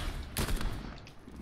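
Gunfire in a video game: a quick burst of sharp shots close by, lasting only a moment.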